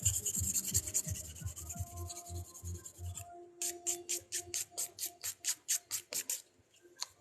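A file rasps quickly back and forth across the free edge of an acrylic nail on a practice hand, first in a rapid low scrub, then in slower, regular, crisp strokes.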